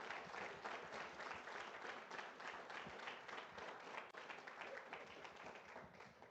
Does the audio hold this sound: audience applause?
yes